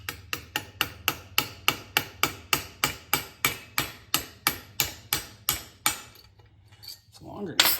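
Sharp metallic hammer taps on a rivet in a 1941 GMC rear end repeat in a steady rhythm, about twenty-one evenly spaced blows, close and clear, then a short pause and a faint shuffle.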